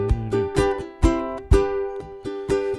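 A ukulele strums the intro chords of a song in steady down-strokes, bright and close, each chord ringing briefly before the next strum.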